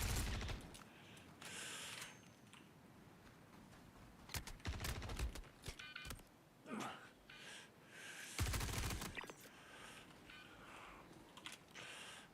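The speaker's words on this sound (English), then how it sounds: "Where's he firing from?" Sporadic gunfire in the space sim Star Citizen, sharp loud bursts and short volleys separated by quieter stretches of clicking and background noise.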